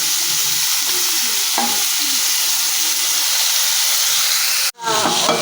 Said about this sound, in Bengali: কাঁকড়াগুলো একটু অল্প অল্প করে ভেজে নিতে হবে